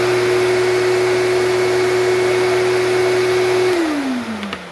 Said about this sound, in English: who's ready for a little test fire with the Dirt Devil MVP Royal?